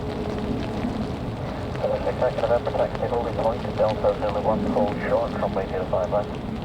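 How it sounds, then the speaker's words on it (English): A Finnair Embraer E190 LR arriving at Manchester Airport in a storm gives a steady, loud jet roar throughout, with a voice talking over it. "Just arrived as the Finnair Embraer E190 LR, arriving from Helsinki."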